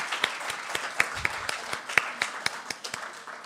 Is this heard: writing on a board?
no